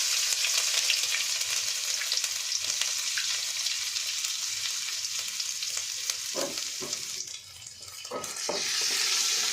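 Finely chopped ginger and garlic fry in four to five tablespoons of hot oil, a steady loud sizzle with a few stirring scrapes near the end.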